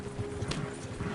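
Horse hooves clip-clopping in Red Dead Redemption 2, a steady rhythm of several soft, close footfalls on ground with a faint snort partway through, no talk.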